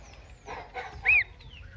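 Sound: baby chick peeping

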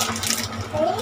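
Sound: water running while washing food

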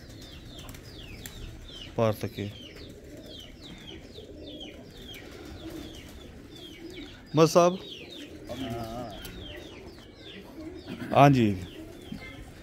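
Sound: pigeons cooing

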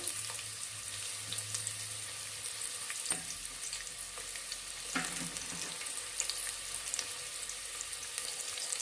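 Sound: onions frying in a pan

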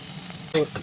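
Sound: potatoes frying in a pan

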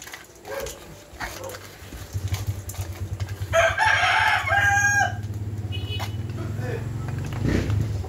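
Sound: chickens being fed

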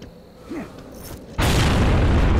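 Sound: grenade explosion in video game Gears of War

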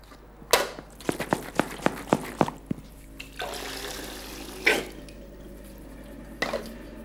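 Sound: water rinsing leather wine bota

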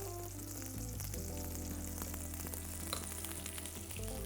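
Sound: mushrooms sautéing in a pan

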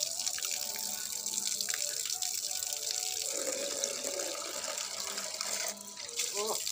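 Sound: water running while a little girl is bathed

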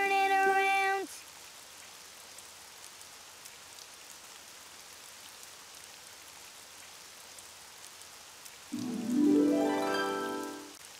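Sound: rain

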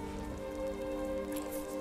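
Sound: rain in Skyrim video game

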